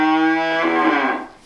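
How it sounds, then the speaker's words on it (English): One long, loud goat call on a farm, drawn out and close, with a strong harmonic tone that fades away at the end. "We want Quinn, the male goat, to share a fence line with the female goats."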